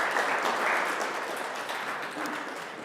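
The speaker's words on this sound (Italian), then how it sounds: "applauso a Marco" A live audience applauds a participant named Marco with a dense, steady wash of clapping that tapers slightly toward the end.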